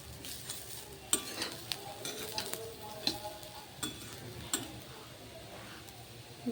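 Chapati chivda gets tossed with fresh coriander in a pan, giving faint scraping and stirring with repeated light spoon taps against the metal over a soft low sizzle.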